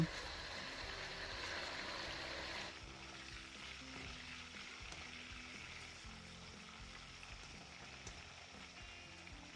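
Sun-dried pork belly strips sizzle in hot oil with a steady crackling hiss, loud at first and then settling into a quieter, constant bubbling with small pops.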